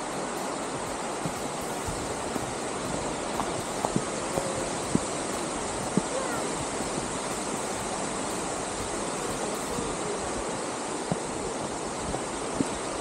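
Rushing water of Dick's Creek Falls on the Chattooga River between Georgia and South Carolina, a dense, steady roar that fills the scene without pause, with a few small clicks and knocks nearby.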